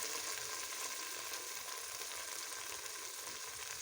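Fava beans fry with tomatoes and garlic in a pan, giving a soft, continuous sizzle and crackle that stays faint and even, with no voices.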